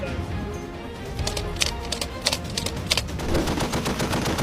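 An M2 Browning heavy machine gun fires in quick, sharp bursts of rapid reports over a constant low rumble, loud and close.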